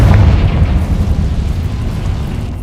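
A Confringo blast spell explodes in the Hogwarts Legacy video game, a loud deep boom that rolls into a long rumbling decay, heard alone.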